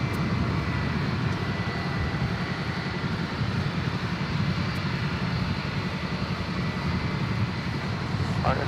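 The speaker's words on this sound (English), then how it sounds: "We've got the Qantas bird. This is a Dreamliner. It's a 787-9." Qantas Boeing 787-9 Dreamliner jet at DFW Airport at night, bound for Sydney, gives a continuous loud engine roar that stays steady throughout, with a voice speaking over it.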